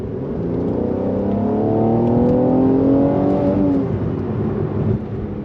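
Steady engine drone from inside a Mercedes C43 AMG sedan with an aftermarket exhaust, a rising exhaust tone as it accelerates for a few seconds, then easing back to a cruising hum.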